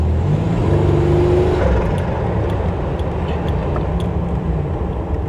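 A 1987 Buick Grand National with a badly cracked exhaust manifold driving along, its engine a steady loud low drone with a rising whine near the start, heard alone without talk.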